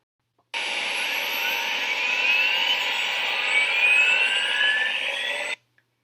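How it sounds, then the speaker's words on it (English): Industrial gearbox running on a factory floor amid very high background noise: a steady, loud broadband roar with whining tonal lines that drift slowly upward, holding constant for about five seconds before cutting off abruptly. "Here's the gearbox operating on a factory floor in the presence of very high background noise."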